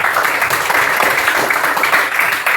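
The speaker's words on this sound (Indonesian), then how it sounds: "Luar biasa, tepuk tangan dulu." Dense, steady clapping from a classroom full of people fills the whole short stretch, loud and even.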